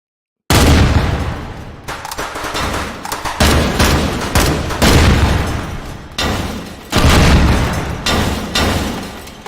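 Repeated loud bursts of gunfire in a close-range firefight in the VR shooter Hot Dogs, Horseshoes, and Hand Grenades, with booming shots in rapid clusters separated by brief pauses.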